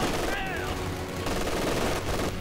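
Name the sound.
machine gun fire in video game Company of Heroes 2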